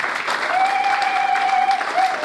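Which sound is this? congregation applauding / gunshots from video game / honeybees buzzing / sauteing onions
congregation applauding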